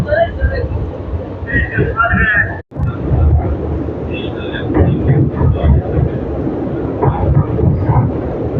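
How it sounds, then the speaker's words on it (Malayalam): The Rameswaram–Thiruvananthapuram Amrita Express train rumbles along steadily with low rolling noise while picking up speed, while people talk over it throughout. "സ്പീഡ് എടുത്ത് പോകുന്നുണ്ട് ഗൈസ് നമ്മുടെ ട്രെയിൻ"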